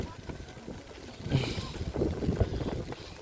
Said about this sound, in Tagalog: Medyo mahangin pala sa taas.